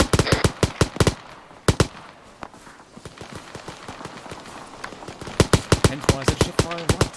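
Suppressive automatic gunfire in the military shooter ArmA 3, rapid bursts of sharp, loud shots in quick rhythmic runs, with a voice talking faintly underneath during the quieter middle stretch.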